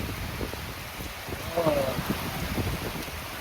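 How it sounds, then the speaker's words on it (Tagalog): Heavy rain in Kabagan, Zambales, seen from inside a hut, hisses steadily as a dense wash of drops, with a faint brief tone partway through. "Lakas ng ulan dito sa Kabagan, Zambales."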